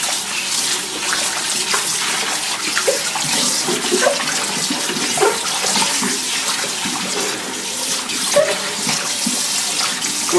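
Tap water runs steadily into a sink while raw pork skins are rinsed of fat, a loud continuous gushing splash with small clatters, no talk.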